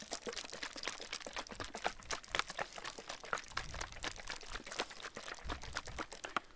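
Water is poured to imitate a waterfall, a continuous, faint splashing and gurgling rush of liquid that keeps going steadily without pause, with no voices over it.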